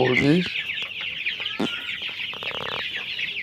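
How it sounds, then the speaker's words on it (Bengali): Several hens on a chicken farm cluck and squawk close by in short, uneven bursts, with some faint background noise between calls. "মুরগির খামার"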